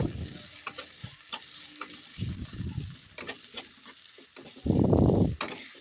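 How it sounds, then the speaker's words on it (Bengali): Crushed garlic and ginger with chillies fry in a pan for a chicken curry, with scraping stirs and soft sizzling coming in bursts, ending in a louder, sustained sizzle near the close. "দিয়ে আদা রসুনটাও ভালোভাবে হালকা করে ভেজে নেব।"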